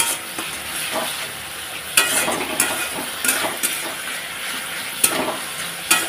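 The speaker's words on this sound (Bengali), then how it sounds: "একটু জল দিয়ে আবারও ভালোভাবে একটু নাড়াচাড়া করে নেব।" Pointed gourd curry is stirred in a pan after a splash of water, giving a steady close sizzle with repeated scraping strokes and a few sharper clinks of the spoon against the pan.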